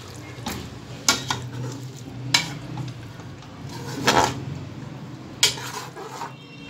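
A ladle stirs chopped coriander into a turnip and meat curry, making repeated clanks and scrapes against the pot over a soft background bubbling, with no talking.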